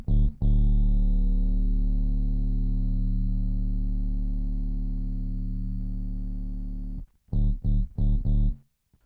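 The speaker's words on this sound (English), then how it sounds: "a bit crusher to add some harmonics and kind of emulate more of a lo-fi sound" A bass guitar note through a Red Panda Bitmap bit crusher pedal rings out for several seconds with a gritty, crunchy lo-fi texture, followed by three quick choppy notes.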